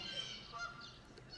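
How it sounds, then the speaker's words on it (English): A single goose honks briefly, a nasal call heard at a moderate distance with faint background hiss. "Oh, there's a goose."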